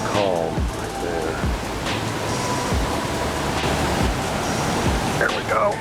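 Steady broadband rush of swift river water pouring over a small dam, loud and continuous throughout, with brief voice-like chirps near the start and end.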